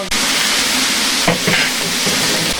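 Bamboo shoots stir-fry with ginger, garlic and scallion in a hot wok, a loud, continuous sizzle close by, broken by a few scraping stirs of the spatula.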